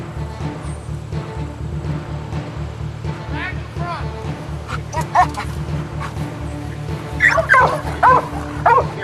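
A police K-9 dog barks and yips during a sheriff's K-9 re-certification search of a vehicle, several sharp barks and whimpers growing louder toward the end, with someone talking throughout.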